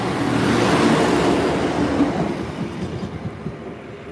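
A test train passes a level crossing in Lincoln, a loud broadband rumble and rush at its peak that slowly fades as it draws away, with faint clicking of wheels over rail joints.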